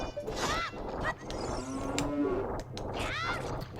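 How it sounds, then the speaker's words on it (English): Cows in The Legend of Zelda: Ocarina of Time give repeated loud, drawn-out moos, several calls rising and falling across the stretch, with no talk over them. "What is this cow even here for?"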